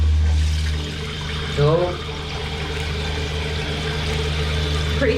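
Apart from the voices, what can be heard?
newly installed Mondella toilet cistern filling with water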